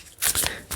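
A deck of tarot-style cards is shuffled by hand in a quick riffle. It sounds as a short, close, papery flutter in two bursts with no talk.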